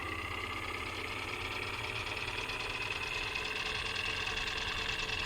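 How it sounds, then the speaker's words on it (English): In an escape video game, an engine starts up once the choke is released and then runs steadily, a dense continuous mechanical drone with a fast knocking rhythm throughout. "Take off our choke, start that up."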